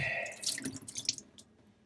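A straight razor whetstone lowered into a small plastic tub of water gives a brief splash, then faint trickles and drips that fade out, close and quiet, with no voices.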